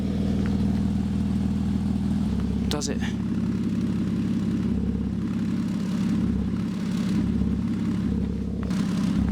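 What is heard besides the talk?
Porsche 987 Boxster S engine running, exhaust pipes blocked for leak check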